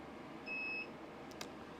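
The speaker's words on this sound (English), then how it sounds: "And you heard the beep." A short, clean electronic beep from a laser engraver sounds once against a quiet background hum, followed by a faint click.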